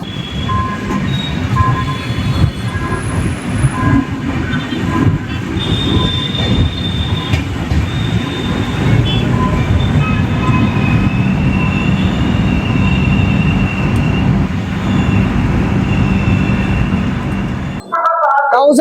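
Navajeevan Express train pulling into Maninagar station, a steady loud rumble of rolling rail cars with squealing wheels and high metallic screeches throughout, ending abruptly.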